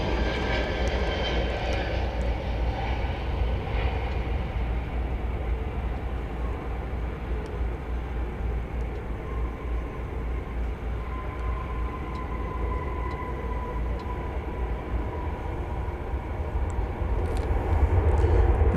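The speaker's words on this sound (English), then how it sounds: "That was American Flight 1107 from Boise, Idaho, in Airbus A321" An American Airlines Airbus A321 flying from Boise, Idaho, rumbles steadily past at an airport, its engine roar broad and continuous, swelling louder toward the end, with no voices.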